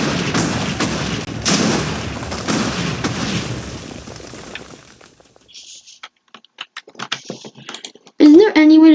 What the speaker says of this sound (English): Isn't there any way to get rid of the explosion thing?